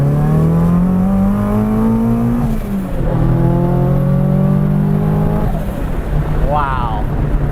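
A 1970 Datsun 240Z with an SR20DET engine revs hard through several rising pulls, loud and close, climbing then dropping between shifts, with voices mixed in.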